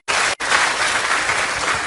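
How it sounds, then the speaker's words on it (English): A short burst of dense applause at a speech by Ghana's president, many hands clapping together loudly, with a tiny break just after it starts. "Another round of applause."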